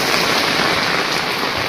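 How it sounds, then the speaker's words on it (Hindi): Heavy rain pours steadily in a mountain forest, a dense, loud, continuous hiss with no voices over it. "और देखो कितनी बारिश में जा रहा हूँ,"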